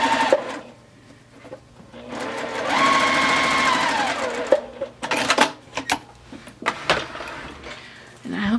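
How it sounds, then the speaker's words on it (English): A sewing machine stitching quilt binding, a steady whirring run of needle strokes mid-clip, with someone talking before and after amid handling noises. "so we're gonna sew"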